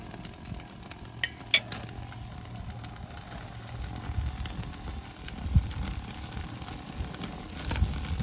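Ribeye steak sizzling over open flames, heard as a close, uneven crackle and hiss with a few sharp pops and clatters, set against a low background hum.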